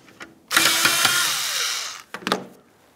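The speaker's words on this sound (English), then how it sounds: "Remove that 7mm bolt." A ratchet turning out a 7mm bolt on the intake of a 2005-2010 Dodge Dakota: a few quick clicks, then a sustained, close whirring burst, followed by several more short clicks.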